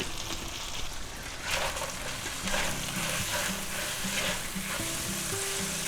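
Garlic powder, onion powder and smoked paprika being stirred into a stir-fry of cashew chicken and broccoli, with steady loud sizzling and frying plus scraping stirring strokes throughout, no talking.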